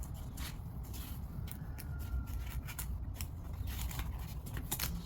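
Scissors snipping through trailer bunk carpet: a quick series of crisp cuts and crackly fabric scrapes, close and fairly quiet, with no talking.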